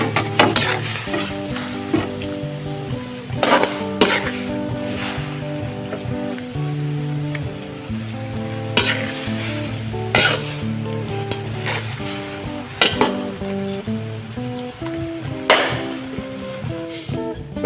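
Beef and liver fry in blood for inbalittad, sizzling loudly and steadily while a utensil stirs, with repeated scraping clacks against the pan at irregular intervals.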